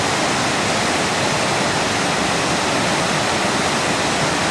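A river in Sequoia National Park flows with a steady, broad rushing roar, continuous and close, with no voices.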